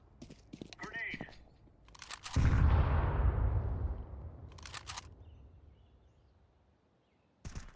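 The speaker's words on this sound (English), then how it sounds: "Grenade." A grenade blows up in Counter-Strike 2, a sudden loud blast with a long rumbling tail that fades over several seconds. Brief gunfire and short bursts of talk come before it, and another sharp hit lands near the end.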